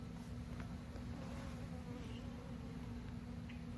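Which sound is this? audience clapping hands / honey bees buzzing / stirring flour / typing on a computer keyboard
honey bees buzzing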